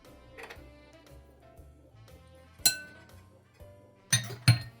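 Three eggs, grated cheese and cilantro being mixed together in a bowl, a few sharp utensil-on-bowl clinks standing out, mostly clustered near the end, over a quiet kitchen background.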